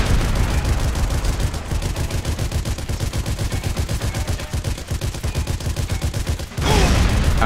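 Rapid sustained gunfire in the game Sniper Elite 3, a loud, dense automatic burst that hammers on almost without pause for several seconds, then breaks off briefly before more heavy fire resumes.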